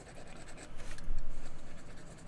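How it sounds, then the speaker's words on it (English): A hard 4H graphite pencil scratches steadily across paper while sketching grass and ground texture, a close, rhythmic rasp of quick strokes with no talking. "The H pencils are very, very hard in comparison to the B pencils, so they tend to make loud scratching sounds like this."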